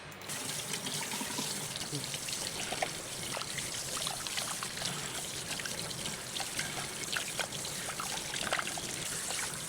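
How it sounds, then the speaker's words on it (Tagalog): Water runs steadily from a kitchen tap while chicken pieces are washed one by one, a soft continuous splashing trickle with scattered small clinks and sloshes and faint talking in the background. "Hugasan lang natin isa-isa yung chicken."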